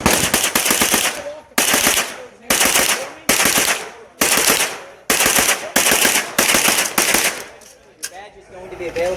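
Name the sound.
gunfire at a live fire range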